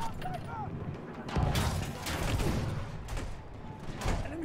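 Tank cannon rounds fired at a field gun in Battlefield 1 boom out in a few heavy, widely spaced blasts, each with a rumbling tail over steady battlefield noise.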